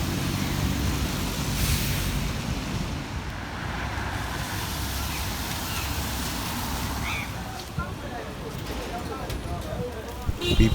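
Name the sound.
vehicles moving along a road in the rain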